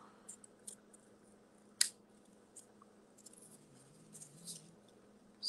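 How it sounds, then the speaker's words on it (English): Scissors trimming the ends of a patterned-paper 3D snowflake, with soft, sparse snips and paper rustles close by in a quiet room, one sharper cut standing out. "And I'm going around and trimming off the ends."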